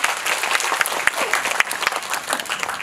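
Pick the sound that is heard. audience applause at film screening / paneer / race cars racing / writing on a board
audience applause at film screening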